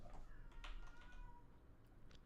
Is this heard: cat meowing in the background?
yes